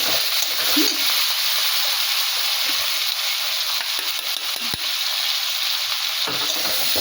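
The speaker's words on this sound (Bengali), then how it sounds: "বাকি পেঁয়াজ টমেটো এগুলো সব সময় দিয়ে দিলাম, যত জিনিস ছিল সেগুলো সব দিয়ে দিলাম, ভালো করে কষিয়ে নেব" Onions and tomatoes stir-fry with spices, ginger, garlic and chili in a pan, producing a loud, steady sizzle throughout with occasional soft stirring scrapes.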